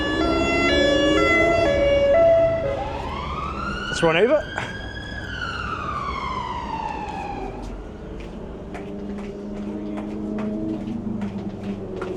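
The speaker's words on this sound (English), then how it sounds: "So we have an unmarked police car and an Audi just coming through here." A loud wailing siren from an unmarked police car rises and falls as it passes close by on a street in Chester, England, with traffic noise around it and a person speaking briefly.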